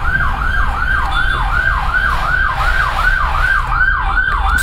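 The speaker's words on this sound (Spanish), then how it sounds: "Uy, a la ambulancia." An ambulance siren wails outside in rapid, regular up-and-down sweeps, loud and steady throughout over a low background rumble.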